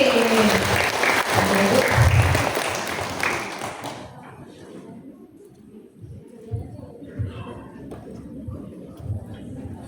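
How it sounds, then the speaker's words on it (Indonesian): Audience applause welcoming Ibu Sri Rahayu to the stage at a talk show gathering, loud and dense for about four seconds before fading into scattered claps and room noise. "beri tepuk tangan yang meriah untuk Ibu Sri Rahayu SPD"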